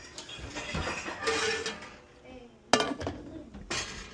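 A greased black iron skillet and other pots clank and scrape as they are pulled out of an oven where cookware is stored, with irregular metallic knocks and a sharper clatter near the end, close by.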